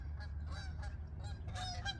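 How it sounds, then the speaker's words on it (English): Canada geese honk repeatedly by a lake, several overlapping calls in quick bursts over a steady low outdoor rumble, fairly distant and with no one speaking. "you hear the Canadian geese?"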